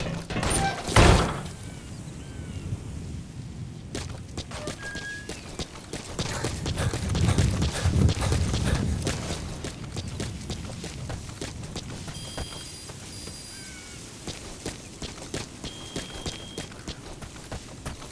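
A horse's hooves clip-clop in the wilderness in Metal Gear Solid V: The Phantom Pain, a rhythmic stream of hoofbeats under game ambience with a sharp impact near the start and scattered interface tones later.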